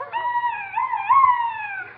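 A duck call carved from a turkey bone is blown in one drawn-out, wavering nasal tone lasting about two seconds, fairly loud and heard alone.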